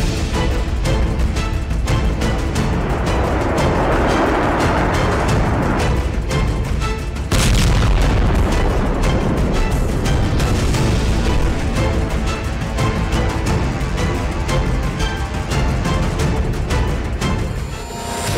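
An Indian Air Force fighter jet firepower demonstration at Pokhran sends out continuous loud, dense roaring blasts and booms that rumble without pause, with a sharper jolt partway through.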